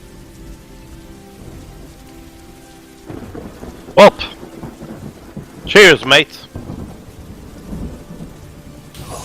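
Steady rain falls throughout, with two sharp thunder cracks breaking through, the second louder and longer, while people talk and raise a toast over the downpour.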